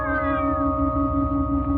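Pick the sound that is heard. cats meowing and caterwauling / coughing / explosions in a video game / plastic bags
cats meowing and caterwauling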